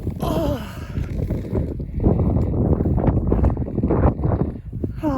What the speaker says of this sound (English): I wish you could feel the wind, it's so fresh.